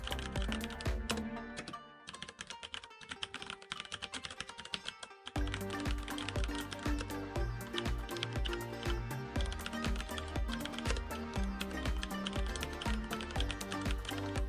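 Rapid computer keyboard typing sits over continuous background music, with a brief gap in the music near the start while the keystrokes carry on.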